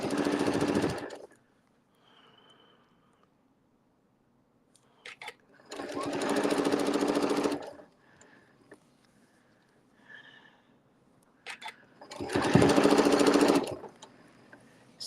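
A sewing machine stitches a Christmas appliqué disc in three loud, close bursts of fast needle chatter, each lasting one to two seconds, separated by quiet pauses with small handling clicks.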